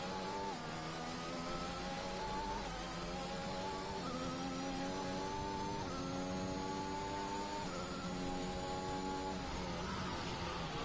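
Sputtering race car engine throttle in a racing video game on a wet track, a continuous loud harmonic drone with wavering pitch and uneven, stuttering revs throughout, no talk.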